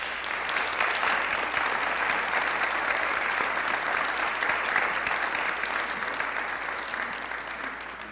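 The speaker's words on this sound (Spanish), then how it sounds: "Un aplauso." Steady, full audience applause for a senator at a political forum at ITAM, continuous dense clapping lasting about eight seconds and tapering slightly at the end.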